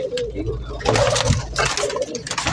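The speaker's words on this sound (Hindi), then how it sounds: "ये कबूतर पकड़ा नहीं जा रहा" Pigeons at a pigeon market in Lahore coo in low, repeated rolling calls amid busy crowd noise and nearby talking voices.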